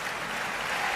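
An audience at a Hindi comic poetry gathering claps steadily, a dense, loud wash of applause with no break.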